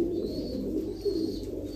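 Royal Teddy pigeon, a female, cooing softly and steadily up close, a low continuous murmuring coo running through the whole moment with no talk.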